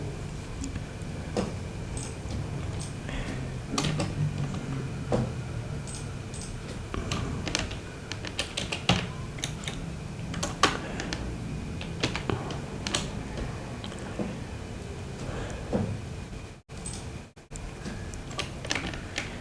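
Close computer keyboard typing as a formula is entered in Excel, irregular bursts of crisp key clicks and taps spread across the whole stretch, with no talking.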